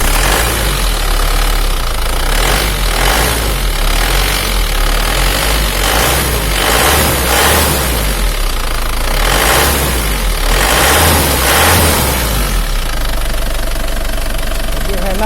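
An Isuzu Panther diesel engine runs loud and close after a tune-up with a cleaned EGR valve and intake manifold, giving a steady knocking idle clatter with periodic surges throughout.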